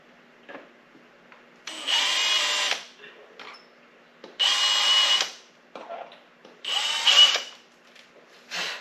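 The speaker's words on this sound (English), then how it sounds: "Don't want to drill it too deep." A power drill drills into pallet wood in three separate bursts of about a second each, with quiet clicks and handling noise between, close by and fairly loud.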